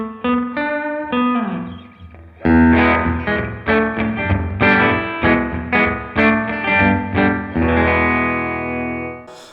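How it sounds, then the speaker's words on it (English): An electric guitar runs through a delay pedal set to a tank reverb sound, plucked notes and chords ringing out with long smeared echoes and a wash of reverb trailing each attack, loud and alone. "we will go to a sort of tank reverb sound"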